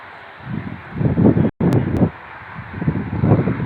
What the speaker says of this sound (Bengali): অনেক বাতাস আমাদের এখানে দেখেন এই ঘাস পাতা দেখলে বোঝা যাবে বাতাস কতটা বেশি হচ্ছে